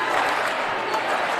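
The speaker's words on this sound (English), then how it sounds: "Crowd getting into it." Crowd noise at an eighth-grade basketball game in a gym, a dense, steady roar of cheering and clapping that stays loud through the short stretch.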